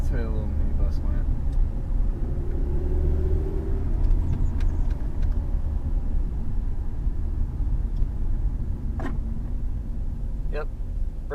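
A 2004 Saturn ION with newly replaced brake lines drives through a neighborhood, a steady low engine and road rumble heard from inside the car, with people talking over it.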